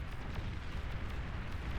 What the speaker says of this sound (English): huge spybot explosion going off